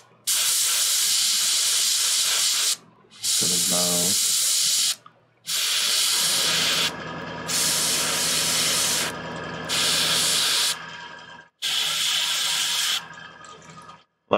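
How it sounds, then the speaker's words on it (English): An airbrush sprays red paint onto a large Games Workshop Warhammer 40K Magnus the Red model in a series of six close, sharp hissing bursts separated by brief pauses, with a short faint voice in one gap. "I'm just using the airbrush to get in there."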